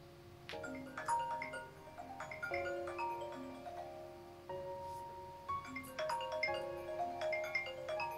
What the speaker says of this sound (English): Babe, your phone is ringing.